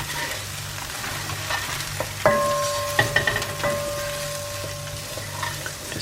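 Curry spices stirred in a hot pan for curried mussels: a steady soft sizzle with a cluster of sharp utensil clinks against the pan in the middle, close up and with no talking.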